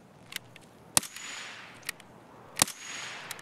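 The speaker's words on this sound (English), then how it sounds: "I don't know who the fuck shot at me" Gunfire in Escape from Tarkov, two sharp loud cracks each followed by a rolling echo, with a few fainter distant shots in between, and no talk over them.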